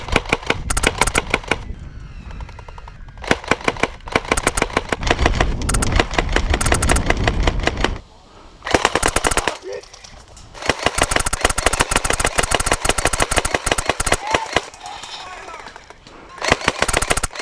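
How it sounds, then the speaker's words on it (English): A fully automatic SGR-12 airsoft shotgun fires in long, loud, rapid bursts of sharp cracks, with a few short pauses between strings of shots. "Today I'm playing with this crazy fully automatic SGR-12 Airsoft shotgun."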